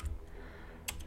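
A few soft, close keystrokes on a computer keyboard while writing a Korn Shell script, quiet and quick, with one sharper click near the end.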